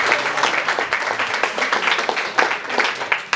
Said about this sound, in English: Round of applause for Fletcher, please.